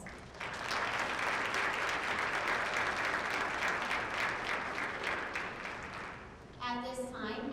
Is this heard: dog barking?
no